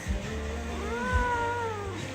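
A house cat meows one long, drawn-out cry with a rising and falling pitch, close and clear indoors over a low background hum, with no talking.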